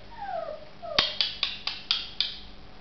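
Samoyed puppy howling in a rising, sliding cry, then breaking into a run of six short, sharp yelping notes at an even rhythm, close and fairly loud.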